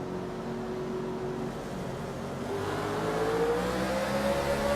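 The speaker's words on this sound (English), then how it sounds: "You could hear the car, the engine rev as the car went sideways." Race car engine in a Gen 6 stock car racing game at Indy revs up as the tires spin and the car slides sideways, a steady loud whine climbing in pitch toward the end, with no talk.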